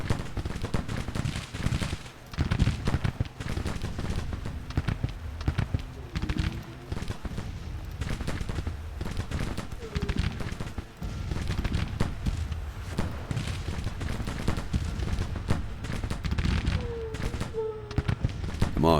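Dense gunfire and artillery crackle through a Civil War strategy game battle, with rapid overlapping shots and distant booms at a moderate, steady level.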